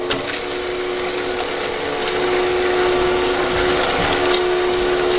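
Small portable gold panning machine running steadily, a continuous mechanical whir with water churning and a faint rattle, holding a constant level that swells slightly partway through, with no talking.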